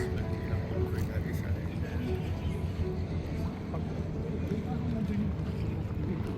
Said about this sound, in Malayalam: ആ ഓളങ്ങൾ കണ്ടോ, അതിൻ്റെ ശബ്ദം കേൾക്കുമ്പോൾ തന്നെ ഒരു റിലാക്സിങ് ആയിട്ട് തോന്നില്ലേ.